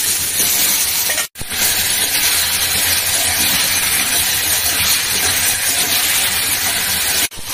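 Boiled potatoes, eggplant and green chilies fry in a pan with a loud, continuous close hiss and sizzle that drops out briefly twice.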